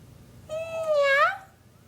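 A person imitates a cat with one drawn-out meow, close and clear, rising then falling in pitch over about a second against faint background hum.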